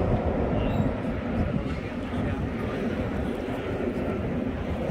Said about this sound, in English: That bridge is metal, so it's pretty noisy when the traffic goes over it.